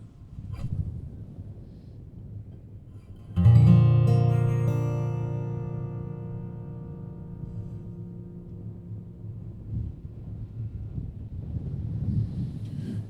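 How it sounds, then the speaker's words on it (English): Wind buffets the microphone outdoors at a live performance at the BeeHive, a steady low rumble that rises and falls. Midway, a single strummed guitar chord rings out and slowly fades. "let's wait 1 minute for the wind to die down, but it's not going to happen"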